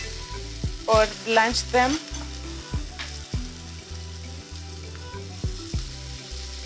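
Chips masala being stirred in a frying pan, with sizzling and scraping strokes that come in uneven bursts. A person speaks briefly over the cooking noise.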